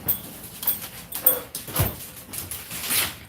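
A dog whimpers in a room, soft intermittent whines and snuffles in short bursts close to the microphone.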